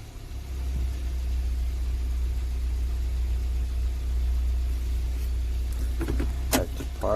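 A 2018 Hyundai Santa Fe Sport idles with a steady low rumble close by, then a few brief mechanical clicks and whirs near the end as the gear selector is shifted.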